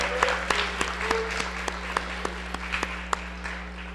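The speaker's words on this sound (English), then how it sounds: "Let's give them a round of applause" An audience at a high school NCAA signing day applauds teachers and staff, a full round of clapping with distinct sharp claps rising above a steady mains hum, fairly close and continuous.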